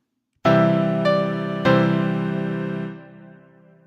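A short piano example of a passing tone: three struck notes in a stepwise line, the first entering after a brief silence, each ringing with a rich sustain that slowly decays.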